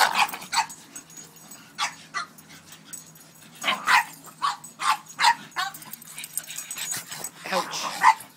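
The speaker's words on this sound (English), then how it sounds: "Dog trips over the puppies all the time when he's trying to play." Bull dogs yip and bark in repeated short bursts while romping with puppies, with whimpers mixed in between the loud, close barks.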